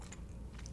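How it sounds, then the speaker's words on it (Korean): A bite into fried chicken only thirty seconds out of the fryer, a brief, faint soft crunch close up with a couple of small crisp ticks and no talking. "튀긴 지 30초밖에 안 되니까 바삭바삭한 소리보다는 좀 더 부드러운 소리가 많이 나서"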